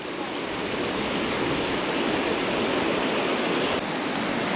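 A waterfall on the Svicha river after rain, the water muddy, roars in a dense, steady broadband rush that stays loud and close without a break.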